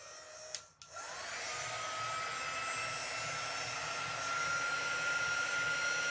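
A quick dry tool blows air in a steady, fairly quiet whoosh with a high whine, starting after a brief click and running continuously, softer than a hairdryer.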